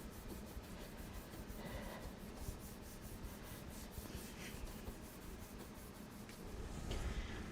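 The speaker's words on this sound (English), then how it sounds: "Then I'm going to flip it over and really rub. Really, really rub it." A sticker is rubbed down hard, giving close, quiet, rhythmic scratchy rubbing strokes repeated steadily over several seconds.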